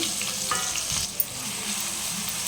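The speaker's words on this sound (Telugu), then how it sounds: "కొంచెం బ్రౌన్ కలర్ వచ్చే వరకు వేయించుకోవాలండి ఉల్లిగడ్డ" Grated onions fry in hot oil in a pan for fish curry, browning with a steady, close sizzle. A single brief clink sounds partway through.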